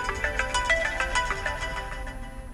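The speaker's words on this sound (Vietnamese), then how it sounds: "Điện thoại kìa bà Thu ơi." A mobile phone plays a melodic ringtone in a scene from a Vietnamese drama, a loud, close tune of quick repeating notes with no talk.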